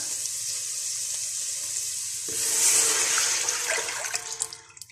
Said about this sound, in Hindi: इसके बाद हम डाल देंगे वेजिटेबल स्टॉक